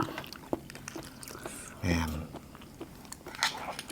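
Crunchy snails with bamboo shoot curry being chewed: a few close, brief bites and crunches scattered over a quiet background, with a voice speaking in the middle.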